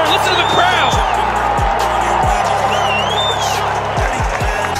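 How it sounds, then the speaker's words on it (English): A lacrosse crowd roars after a goal, a loud, sustained wash of cheering and whistles filling the arena, with several sharp thuds and a commentator talking over the noise. "Listen to the crowd."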